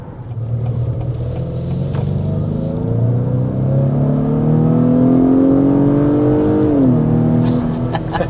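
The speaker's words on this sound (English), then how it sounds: "That was a sport mode acceleration" A 2026 Acura RDX accelerating hard in sport mode, its engine note climbing steadily in pitch through a long, loud, rumbling pull before dropping with an upshift near the end, heard from inside the car with no talk.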